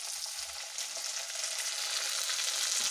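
Tomatoes hit a hot frying pan for a Bengali murighonto fish-head dish, with onions already cooking, giving a steady, loud, broad sizzle and crackle that holds evenly throughout with no talking.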